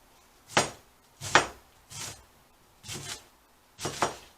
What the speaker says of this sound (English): I'm making too much noise with the knife.